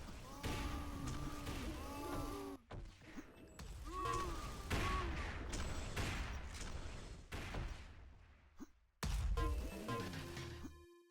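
Rifle fire in a multiplayer shooter match, sharp crashing bursts scattered through the clip alongside game effects, with a commentator talking over much of it.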